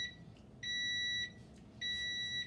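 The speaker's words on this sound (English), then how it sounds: "Any minute now, the buzzer will ring, telling us that the first batch will be ready." Oven timer buzzer going off for a batch of chocolate chip cookies: two steady electronic buzzes, each lasting more than half a second, separated by a short pause, sounding alone and fairly loud in a quiet kitchen.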